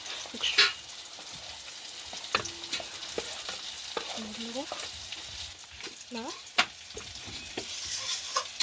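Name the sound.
stirring ground spices with water in a bowl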